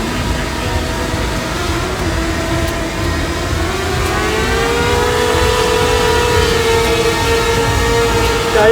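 The motors of a DJI Mini 2 drone strain continuously while it tries to lift a load of water, giving a loud, sustained whine whose pitch slowly rises and wavers, with no voices over it.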